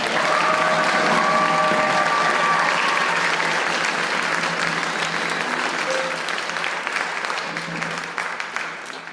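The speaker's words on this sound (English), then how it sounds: "Give him a round of applause." An audience at the Hermiston High School spring band concert gives a loud, sustained round of applause, full and even at first and then thinning toward the end, with some crowd murmur mixed in.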